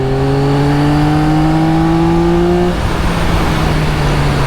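A 2024 Yamaha XSR900 motorcycle engine revs hard and loud, its pitch climbing steadily under acceleration, then it drops abruptly as the gear changes and the engine keeps roaring.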